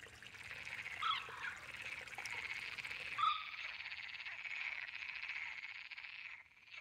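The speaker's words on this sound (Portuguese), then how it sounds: "os machos de rã verde exibem-se para as fêmeas. Nos dias solarengos, a sinfonia é estridente" Male green frogs call from within a reed bed, a dense, steady chorus of trilling croaks mixed with a soft trickle of water, holding a constant level before thinning out near the end.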